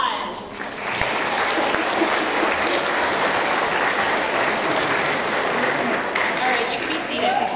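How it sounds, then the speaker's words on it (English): Audience applause at a 7th grade school awards ceremony, a full sustained round of clapping from a seated crowd that swells quickly and carries on evenly for several seconds. "All right, one more round of applause."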